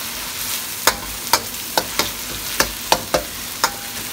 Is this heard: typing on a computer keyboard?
no